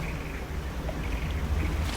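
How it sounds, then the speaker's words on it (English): In the fishing video game DREDGE, a boat pushes through a patch of oil on the sea, a low churning, sloshing rumble with a faint airy hiss, steady and close, with no talk. "That's the sound of going through that oil."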